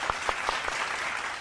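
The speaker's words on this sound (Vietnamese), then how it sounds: "Một tràng vỗ tay cho cả hai gia đình nhà trai được không ạ?" A studio audience on a Vietnamese TV matchmaking show applauds the two families, starting with a few sharp, evenly spaced claps that swell into a steady, full round of applause.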